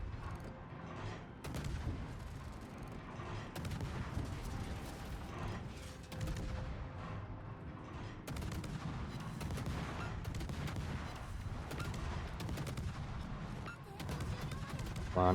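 Battleship Montana's main guns blind firing in World of Warships, a steady stretch of booming gunfire and rumbling battle noise, with a voice talking over it throughout.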